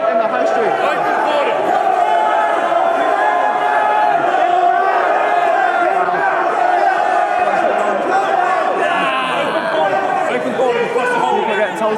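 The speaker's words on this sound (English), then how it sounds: "now it's kind of escalated into a huge crowd in the High Street" A large crowd of protesters fills a high street during a migrant hotel protest at Canary Wharf, a dense, loud wash of shouting and chatter that stays constant throughout, with voices close by.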